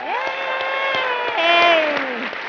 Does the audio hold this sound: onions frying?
no